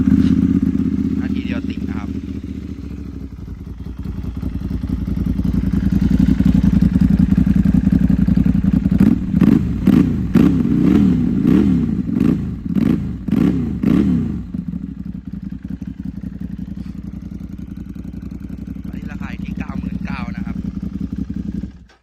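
A 2012 Ducati 795 motorcycle engine cranks, catches and settles into a loud, close idle with a lumpy, pulsing rhythm and some clattering, then drops back to a steadier idle.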